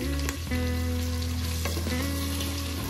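Half a kilo of mutton fries with salt in an open pressure cooker, giving a loud, steady sizzle that runs continuously, with a short break and a few clinks of stirring.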